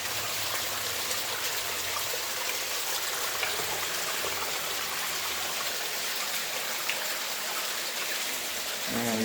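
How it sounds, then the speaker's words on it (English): A stream of water runs out of an abandoned 1900 gold mine, a steady close rushing and trickling wash that holds an even level throughout, with no talk over it. "we've just got a stream kind of flowing out"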